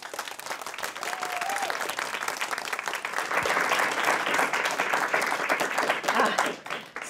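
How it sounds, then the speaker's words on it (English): A studio audience at a television comedy show breaks into sustained applause, dense and steady throughout, swelling slightly toward the middle before tapering at the end. "Audience applause now."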